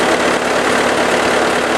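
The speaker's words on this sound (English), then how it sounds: "You listen to that engine" A Bobcat T300 skid steer's engine idles steadily up close, a loud, even mechanical rumble with no talk over it.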